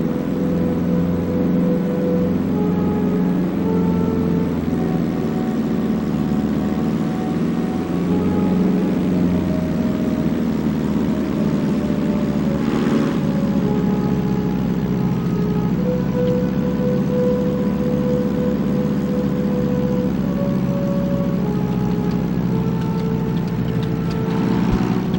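A WWII fighter plane in the Heroes of the Pacific game rolls down the runway for takeoff, its engine droning steadily and loud, with a sustained tonal hum and slight pitch shifts throughout.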